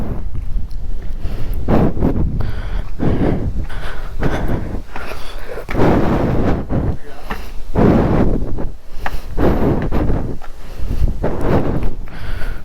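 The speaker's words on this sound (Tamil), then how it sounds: "காத்து தள்ளுதுரா." Strong wind gusting at a hilltop viewpoint in Kanthalloor, buffeting the microphone in loud, rough bursts that rise and fall throughout, with people talking now and then.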